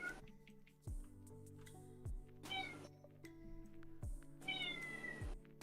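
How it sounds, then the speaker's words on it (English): A pet cat meows repeatedly and close by, several drawn-out calls spaced a second or so apart over a steady indoor background. "can you guys hear my cat?"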